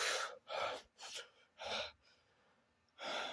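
A voice imitates heavy breathing with a series of loud breathy gasps and panting huffs in uneven rhythm, close to the mic, with a short pause before a final breath.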